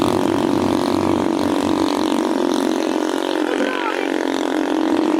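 A motorcycle grinds up a steep mountain road toward Barangay Tugawe, its engine a loud, steady, close drone that holds throughout with no breaks.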